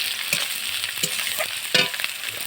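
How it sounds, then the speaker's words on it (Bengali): Chopped capsicum sizzles and fries in hot oil in a pan during village cooking, a steady bright hiss broken by a few scraping stir strokes, close and alone with no voices. "এর মধ্যে ক্যাপসিকামটা দিয়ে দিচ্ছি দিয়ে হালকা করে আমি কষে"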